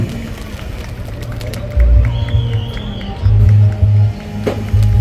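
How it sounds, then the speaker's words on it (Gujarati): Crowd at an army honour ceremony near Nadiad's APMC market erupts in bursts of cheering and clapping, loud rushing swells rising and falling over a murmuring background. "જોરદાર તાળીઓ પાડો"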